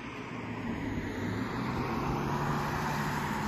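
A car approaching on a rural road near a campsite in the middle of nowhere, heard as a steady low engine and tyre rumble that grows gradually louder from a distance, with no talking.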